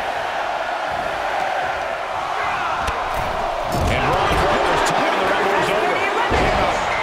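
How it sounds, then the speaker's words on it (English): Arena crowd noise from a WWE 2K24 Royal Rumble match, a steady loud roar of cheering that swells louder midway, with thuds and impacts from the in-ring action. "Listen to this crowd."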